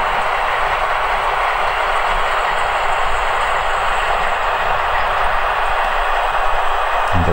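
A pair of Roco V 100 model diesel locomotives runs on a model railway, giving a steady, loud sound-module diesel rumble with a hissing wash and faint rail clatter that continues unbroken throughout, with no talking.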